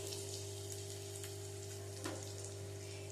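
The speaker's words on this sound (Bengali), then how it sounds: "এবারে পেঁয়াজটা ভেজে নেব।" Chopped onion fries in a pan, making a soft, continuous sizzle over a steady low hum. The sound is close but faint.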